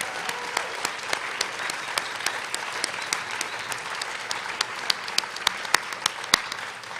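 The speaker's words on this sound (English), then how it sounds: "So please join me in a round of applause thanking these incredible staff." Steady applause from a university commencement audience, dense continuous clapping with sharper individual claps standing out, sustained at moderate loudness for the whole stretch.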